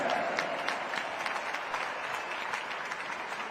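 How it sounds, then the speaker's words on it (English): Arena crowd at a Monster Jam event in Stockholm applauds for Monster Jam driver Joe Dennis and his Black Panther truck, a dense, steady wash of clapping and cheering heard from within the crowd, fairly distant and sustained throughout. "can we please take a moment to give a round of applause for Joe Dennis in Black Panther"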